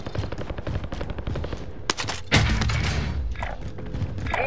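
Small-caliber gunfire in Call of Duty: Modern Warfare, rapid bursts of close automatic shots in a rattling rhythm, then a heavier thump followed by more fire under a busy mix.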